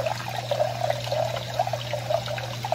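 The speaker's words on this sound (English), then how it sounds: "Now I will put some water in here." Water is poured into a container for growing jalapeños in hydrogel water crystals, a steady splashing trickle with small bursts, close by over a constant low electrical hum.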